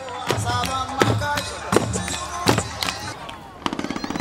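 Fireworks at the Kumejima Festival, an August summer event, burst in a rapid series of sharp cracks and booms, ending in a fast crackling rattle.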